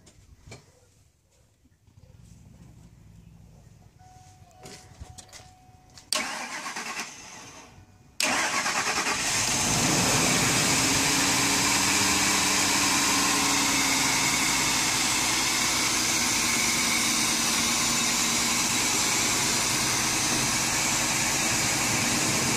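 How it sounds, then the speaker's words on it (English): A Ford Expedition 5.4L V8 engine, repaired for lean codes P0171 and P0174, cranks briefly, then roars to life and settles into a steady, loud, continuous idle for the rest of the clip. "we'll go ahead and start it up to see how it sounds"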